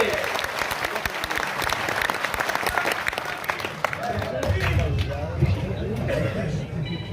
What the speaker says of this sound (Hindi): मैं चाहता हूं आगे से लेकर पीछे तक जोरदार तालियां आदरणीय पवन जैन जी के लिए।